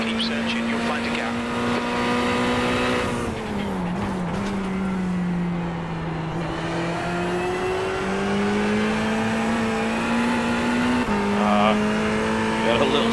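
A Ferrari GT3 race car engine in iRacing holds a steady, loud drone at high revs, dipping briefly and recovering in pitch as it brakes and shifts through corners.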